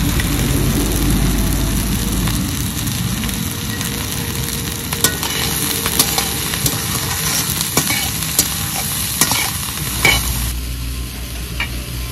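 Steady loud sizzling of Malabar spinach and spring onions with puti fish frying in a pan, with repeated scraping and clinking of a spatula stirring throughout; no voices.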